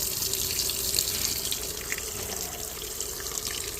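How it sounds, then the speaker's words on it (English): Water rushes steadily into a GTW 460 washing machine as it fills, a continuous hiss and splash that stays loud and even throughout, with no speech. "We'll let it fill up full of water here."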